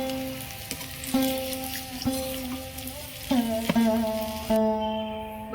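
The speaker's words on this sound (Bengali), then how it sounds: "বাকিগুলো ভেজে নেব আমি সবগুলো ভালো করে ভেজে নিয়েছি" Oil crackles and sizzles continuously in a pan, with occasional clinks and a steady tonal hum underneath.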